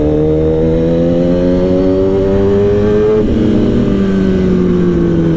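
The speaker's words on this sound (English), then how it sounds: "This bike with Kaibo's exhaust is very loud" A 2015 Kawasaki ZX-10R fitted with an aftermarket exhaust revving loudly up close, engine pitch climbing steadily, dipping briefly, then rising again with a harsh, throaty drone and no talk.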